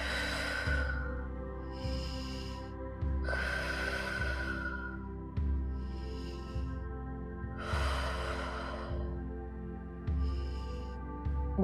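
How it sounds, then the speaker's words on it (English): Deep, slow breaths during an Ashtanga yoga practice: several long airy inhales and exhales in a steady rhythm, close and clear over soft continuous background music. "And I'm taking deep breaths."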